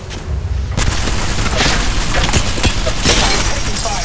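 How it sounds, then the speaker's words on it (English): Heavy gunfire in the battle royale game Apex Legends, loud and continuous, with overlapping shots and booms forming a dense, unbroken roar of combat throughout. "I'm taking fire."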